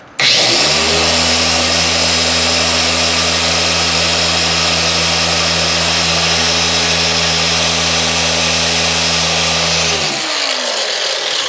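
A power polisher works car paint, running steadily at a medium speed setting for about ten seconds with a loud, even motor whine and buzzing pad friction, then winding down and stopping near the end.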